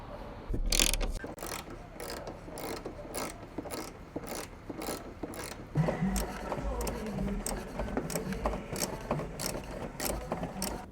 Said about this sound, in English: So I'm gonna remove these bolts, right, using a 10mm socket